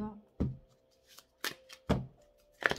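A tarot card deck is cut and shuffled close up in several short, crisp riffling bursts separated by brief pauses, with a faint voice in the background.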